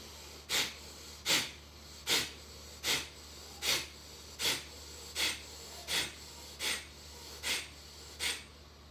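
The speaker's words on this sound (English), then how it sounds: "So that's the breath of fire." Breath of fire breathing exercise: a person makes sharp, rhythmic forced exhales through the nose, about a dozen evenly spaced puffs roughly one per second, close and clear over quiet room hiss.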